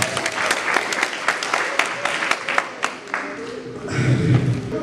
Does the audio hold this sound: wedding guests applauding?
yes